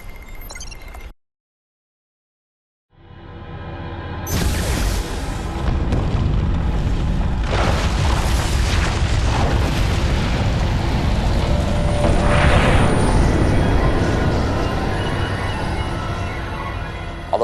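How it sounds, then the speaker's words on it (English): A huge explosion in a Command and Conquer 3 Tiberium Wars cutscene, the blast at a temple in Sarajevo setting off a liquid Tiberium deposit beneath it; a brief silence gives way to a loud, sustained rumbling roar with crackling debris. "the explosion also detonated a liquid Tiberium deposit hidden beneath the temple itself"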